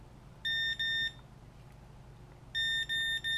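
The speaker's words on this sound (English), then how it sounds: "You just kind of follow this beep menu to get to your own settings" A Fatshark Attitude V2 headset's head-tracker menu gives two pairs of short electronic beeps, two quick tones, a pause, then two more, clear over a quiet hum.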